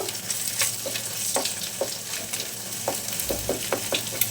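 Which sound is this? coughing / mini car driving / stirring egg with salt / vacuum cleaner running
stirring egg with salt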